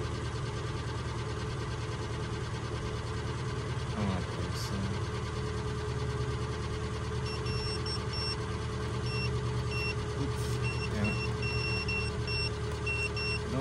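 An Infiniti M37S engine idles with a misfire, a steady, close, continuous mechanical hum with slight unevenness and no pauses.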